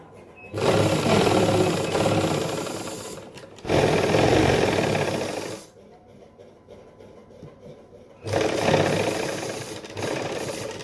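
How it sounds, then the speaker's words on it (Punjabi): A sewing machine stitches a concealed piping seam along a garment neckline, running in three loud, steady, rattling bursts of about two to three seconds each, separated by brief quiet pauses. "ਸਭ ਤੋਂ ਪਹਿਲਾਂ ਆਪਾਂ ਸੈਂਟਰ 'ਚ ਇੱਕ ਸਲਾਈ ਲਾਵਾਂਗੇ"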